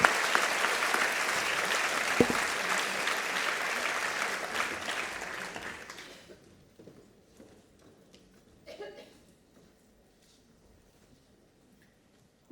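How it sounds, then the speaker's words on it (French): Audience applause at a neuroscience storytelling evening, a dense steady round of clapping from the crowd that dies away about halfway through, leaving near-quiet with faint rustles. "on va tous s'applaudir"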